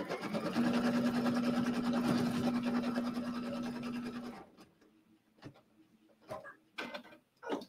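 A sewing machine stitches a house design placement line for a holiday bench pillow, running in a steady continuous whir for about four seconds, then stopping, leaving faint scattered handling clicks and rustles.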